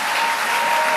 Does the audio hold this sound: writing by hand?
no